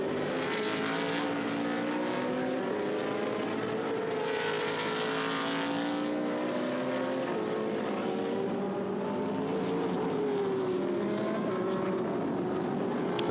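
Race car at the Nürburgring during Blancpain Endurance Series free practice, engine note rising and shifting steadily as it drives past, loud and sustained throughout with no talk.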